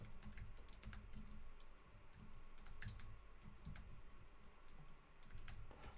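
Rapid clicking keystrokes on a computer keyboard, close and steady with brief pauses, while entering code for a rolling average calculation; no talking.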